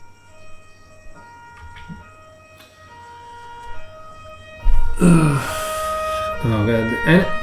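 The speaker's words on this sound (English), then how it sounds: "I don't remember when there were ambulances passing by so often." An ambulance siren passes outside as steady, wavering tones running faintly through the clip, joined near the end by a loud, close groaning voice.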